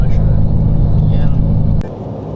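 Steady low road rumble and engine drone from inside a vehicle on a Cape York trip, loud and continuous, dropping abruptly near the end; a voice speaks briefly.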